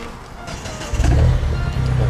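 A car engine starts up, with a short starter churn followed by a loud, rumbling idle that swells and settles close by.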